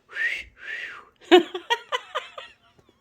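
Two drawn-out whistled notes sound clearly, one after another, followed by a short burst of laughter.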